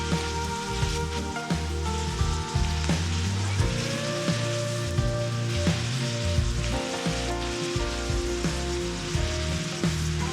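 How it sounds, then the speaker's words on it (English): Cabbage fries and sizzles in a pan, a steady dense crackle with scattered pops that holds at a constant level throughout, close by and with no talking. "I'm gonna go ahead and add the rest of my cabbage now that it's starting to cook down some."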